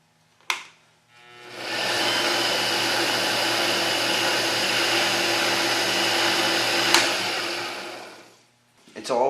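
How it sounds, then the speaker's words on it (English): A shop vacuum starts up and runs steadily for several seconds, sucking up sanding dust and wood shavings in a woodturning workspace, then shuts off and spins down, with a clunk before and after. "I'm going to vacuum up all the sanding, all the shavings"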